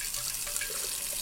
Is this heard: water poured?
yes